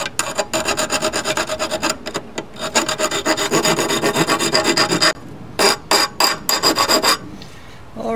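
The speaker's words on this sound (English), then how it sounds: "get all these edges trimmed up a little bit" Edges of a polio shoe being trimmed with a loud, rhythmic rasping and rubbing stroke repeated rapidly in bursts, close by, with short pauses between runs.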